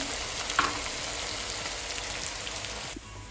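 Chicken pieces deep fry for biryani in a generous amount of oil over medium heat, giving a close, steady crackling sizzle with a few sharper pops and no voices.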